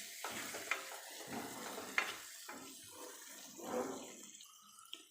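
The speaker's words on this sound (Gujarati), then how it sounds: "ડુંગળી અને ટામેટું ચડે ત્યાં સુધી એને થવા દઈશું" Finely chopped onion and tomato cooking in a pan for a Gujarati fried dal bati dish, a soft steady sizzle with occasional stirring scrapes, close and fairly quiet, without speech.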